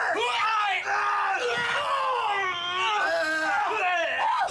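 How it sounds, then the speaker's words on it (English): Many voices screaming and yelling together for a charging moment in a Battlefield video game, a dense, loud, sustained chorus of strained cries rising and falling in pitch, close and continuous. "all the screams you hear in the game for that charging moment were here"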